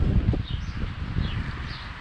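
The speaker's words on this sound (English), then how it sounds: "it got a little windy all of a sudden" Steady outdoor wind buffeting the microphone, with a continuous low rumble and faint rustling throughout.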